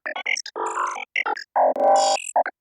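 A synth lead playing the Looney Bubbles preset with altered macros, sounding as a bright, bubbly sequence of short staccato notes and a few longer held tones, with rich overtones and clean gaps between phrases.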